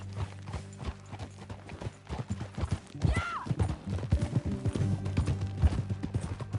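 Horse hooves clip-clopping in the video game Red Dead Redemption 2, a steady walking rhythm of close hoofbeats over a low musical drone, with a brief snort or whinny partway through.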